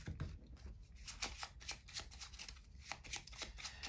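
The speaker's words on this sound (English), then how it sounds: "while they are shuffling their piles" Spectators shuffling piles of playing cards for a card trick, a run of quick crisp riffling and flicking bursts in an uneven rhythm, close but soft, with no talking.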